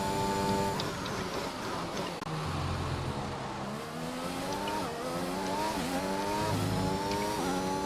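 Race car engine in F1 2021 racing game, bouncing over kerbs at Canada: a loud, continuous high-revving whine with rising and falling gear sweeps and rough low thumps from the kerbs, filling the whole stretch without talk.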